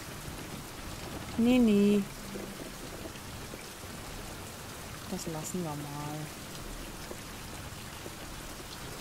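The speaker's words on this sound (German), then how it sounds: "Regnet es hier auch von oben rein." Steady rain falling in a survival video game, a continuous hiss of drops with faint distant rumbling throughout, while someone speaks briefly over it.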